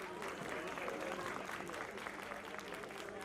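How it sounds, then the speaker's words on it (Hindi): A crowd at a cold-weather Hindi poetry gathering applauds the organisers, a faint, distant, even patter of clapping that continues steadily with a voice partly audible beneath it. "एक बार तालियां बजा दीजिए"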